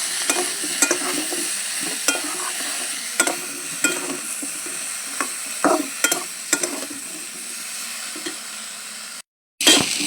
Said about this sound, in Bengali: হলুদ দিয়েও আমি ভালো করে আর এক মিনিট তরকারিটাকে কষে নেবো